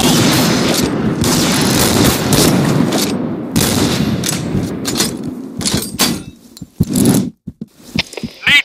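A grenade blast and rapid gunfire in the shooter game Point Blank, loud and close, with dense bursts of shots, a heavy boom, then scattered single cracks and clanks toward the end.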